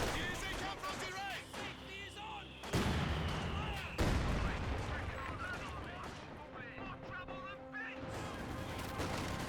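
Anti-tank gun fire in the Company of Heroes 2 war strategy game, a few sharp, heavy shots ringing out over busy battle noise and scattered chirpy unit sounds.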